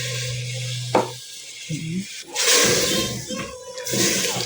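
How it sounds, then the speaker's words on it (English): Rainwater poured into a pressure cooker for cooking, with uneven splashing and gushing in bursts, broken by clunks and a short pause partway through. "I'm going to add enough water"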